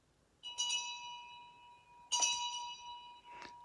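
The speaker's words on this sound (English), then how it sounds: "this was the handbell that would be rung every time the Newgate condemned prisoners were taken for their execution" A metal handbell, once rung for condemned Newgate prisoners on their way to execution, gives three bright ringing strikes, each leaving a long shimmering sustained tone, clear and isolated in a quiet space.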